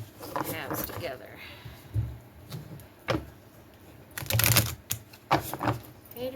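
A deck of tarot-style cards is shuffled by hand in halves, giving irregular papery riffles and slaps, close and moderately loud, with a voice talking intermittently.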